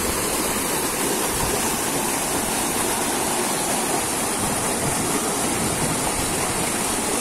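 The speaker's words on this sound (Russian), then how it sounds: "Сверху льется шумный поток воды" Loud, steady rushing water roars without pause, a dense broadband wash like a fast stream or small waterfall close by, pouring into the Blue Lake in Crimea's Grand Canyon.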